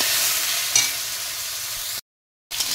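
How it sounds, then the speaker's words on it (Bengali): Two medium cut potatoes frying in hot oil, a dense steady hiss with one brief spoon knock, cutting out for a moment before the sizzle resumes. "এখানে আমি 2টো মাঝারি সাইজের আলু কেটে রেখেছিলাম, এটা আমি এবার তেলের ভিতরে দিয়ে দেবো।"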